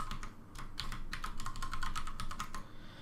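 Rapid keystrokes on a computer keyboard while a password is entered, a steady run of close, crisp clicks with uneven rhythm, no talking.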